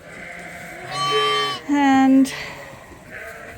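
Two loud lamb bleats on a crowded, overfull sheep farm, the first wavering call followed almost at once by a second, steadier one, with a voice speaking briefly around them.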